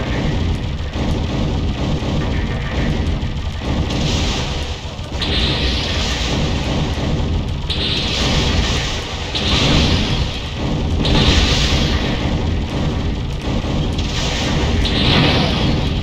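Flash cannon weapon in the PS1 shoot 'em up Einhander firing repeatedly, loud bursts with a bright hissing blast every second or two over a dense, constant barrage of explosions and game noise.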